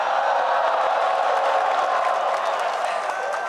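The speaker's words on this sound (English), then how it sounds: "Thanks for cheering us" A large arena crowd at the League of Legends World Championship final, SKT versus Samsung, roaring, cheering and applauding in a loud, continuous wash that holds steady throughout.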